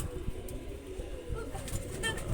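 A male and a female pigeon coo softly at close range, with gentle throaty murmurs over a low continuous background rumble.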